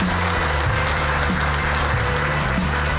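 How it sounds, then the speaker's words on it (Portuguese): An audience applauds for César Uriani as he is welcomed to give a talk, a steady, dense wash of clapping that runs unbroken for the whole stretch with a low hum underneath. "Uma salva de palmas para César Uriani"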